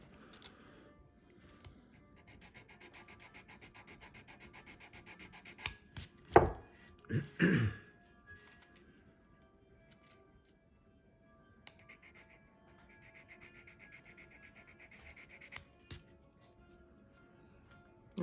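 A knife scraping and shaving a bassoon reed during beveling, faint close clicks and short scrapes in small bursts, with a couple of louder strokes midway and long quiet gaps.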